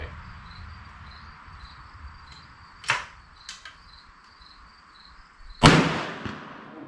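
.410 slugs fired from a New England Firearms SB1 single-shot shotgun with full choke outdoors, sharp distant-sounding cracks: two lighter reports near the middle and a louder blast near the end, over a faint insect background.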